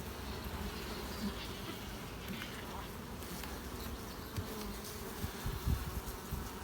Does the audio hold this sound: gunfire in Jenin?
no